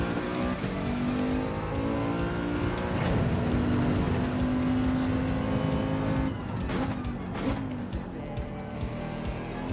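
A race car engine in Gran Turismo with a faulty throttle hall sensor keeps blipping and rumbling, its revs rising and falling steadily, with a sustained engine drone throughout and some talk over it.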